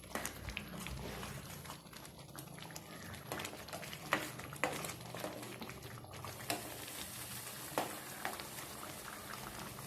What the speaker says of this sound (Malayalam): ഇനി ഒന്നുകൂടി തേങ്ങ നല്ലപോലെ ഒന്ന് തിളച്ച് വെന്ത് വരട്ടെ.